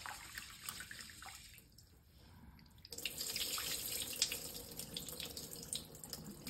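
Rice and fenugreek seeds being washed under a running kitchen tap, water streaming steadily into a sink with a quieter trickle at first, then a fuller, louder gush of splashing water.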